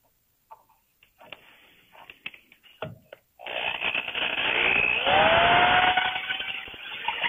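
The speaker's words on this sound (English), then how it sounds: "we take our drill and drill." A power drill bores into the fiberglass bowsprit of a Westsail 32 sailboat. Scattered handling clicks and taps come first, then a loud, close, continuous whir that rises in pitch as the bit cuts.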